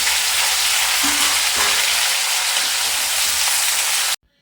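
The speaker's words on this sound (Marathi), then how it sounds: "भेंडी छानपैकी परतून घ्यायची" Long-cut okra sautéing in a hot pan over cumin and mustard seeds, producing a loud, steady, close sizzle and hiss throughout with faint stirring scrapes, cutting off abruptly at the end.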